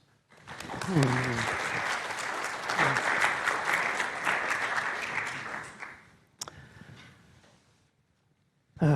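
An audience applauds to welcome speakers at an evening talk on a New Zealand Gold Medal Tour. The steady, full clapping lasts about five seconds, then fades into a quiet room before a voice begins speaking.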